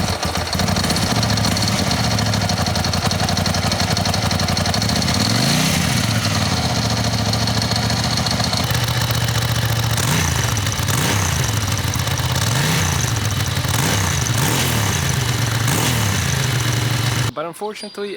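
A Ducati motorcycle's 90-degree V-twin engine runs loud and close with a deep, lumpy throb, swelling through several throttle blips and revs before cutting off abruptly near the end.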